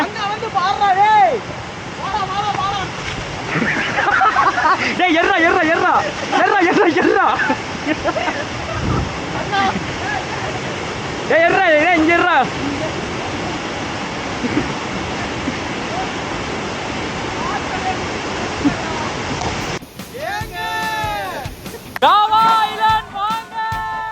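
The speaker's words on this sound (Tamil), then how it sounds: "வாட்டர் ஃபால் ரொம்ப ஜெய்ஜாண்டிக்கா இல்லைனாலும் ஓரளவுக்கு செம்மையா இருக்கு" A modest waterfall at a hidden spot on private property near Coimbatore gives a constant broad rushing roar that continues under people talking throughout.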